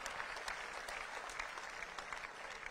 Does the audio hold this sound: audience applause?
yes